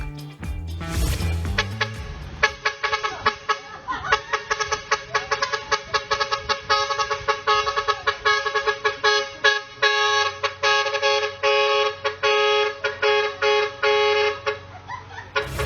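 A truck horn honks in a rapid rhythmic pattern of short blasts, loud and close, repeating steadily after a brief low rumble at the start, in Alabat, Quezon, Philippines.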